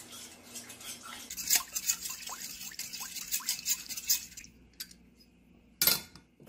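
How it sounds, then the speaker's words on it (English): Danish dough whisk mixing flour and liquid by hand in a bowl for sourdough sandwich bread, a series of close scraping, clicking strokes, then a pause and a sharp knock near the end. "One of my favorite things when you're mixing by hand is a Danish dough whisk."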